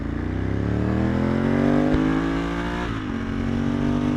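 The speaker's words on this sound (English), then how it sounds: "Every time I roll down a hill, if I just gently engage the throttle a little bit, I get all these burbles." Motorcycle engine droning close by under light throttle while rolling downhill, its steady rumble shifting pitch slightly, with faint burbles.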